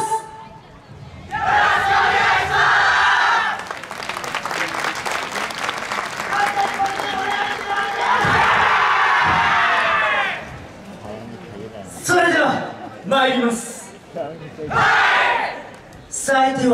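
A lively crowd at a YOSAKOI dance festival in Ibaraki cheers and claps rhythmically along, with shouted calls rising over the noise and quieter stretches between bursts.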